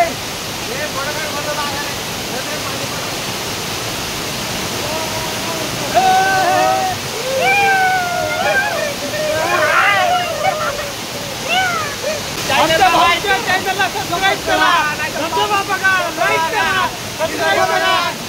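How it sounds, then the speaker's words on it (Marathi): Waterfall near the Gupt Bhimashankar temple gives a steady, broad rush of falling water that runs throughout, with people talking over it in several stretches. "ज्या धबधब्याची आपण वाट बघत होतो तो धबधबा आपल्याला दिसलेला आहे"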